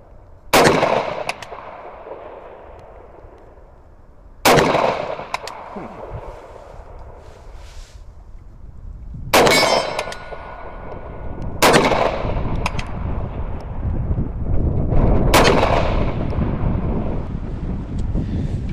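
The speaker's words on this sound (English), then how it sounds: "So I just run all those rounds in double action." Five loud, close gunshots from a double action pistol fired at uneven intervals several seconds apart, each with a short ringing tail, over steady outdoor wind noise.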